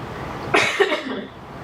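A single sharp cough, close and fairly loud, followed by a shorter second catch of the throat, then quiet room tone.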